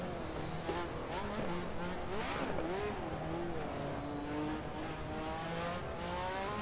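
The Lotus 98T turbo Formula 1 car in Assetto Corsa roars continuously, its engine pitch sweeping up and down through revs and gear changes, with screechy tyre-like squeals layered over the steady mechanical drone.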